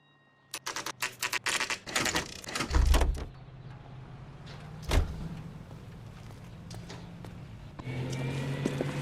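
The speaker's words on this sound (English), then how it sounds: "That's the car, Cole. Just pulling out of the drive." A car in the video game LA Noire pulls out of a driveway, with a burst of rapid clattering and door-like thuds followed by a steady engine rumble that swells toward the end.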